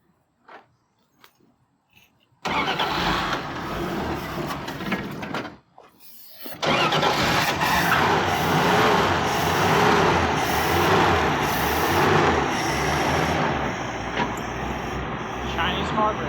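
A 1969 Dodge A108 van engine with a carburetor and an inoperative accelerator pump starts after a few quiet knocks, then runs loud and steady, stumbles briefly, and settles into a sustained rough roar close by.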